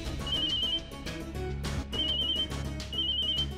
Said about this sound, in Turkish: Telefonun sesi buradan geliyor.